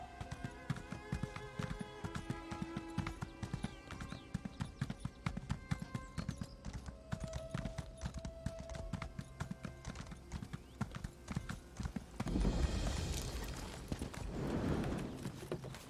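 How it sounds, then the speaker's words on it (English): Steady clip-clop of horse hooves in the video game Elder Scrolls Online at a brisk, even rhythm, close and clear, then a louder snort or whinny near the end. "I think I'm just take the horse."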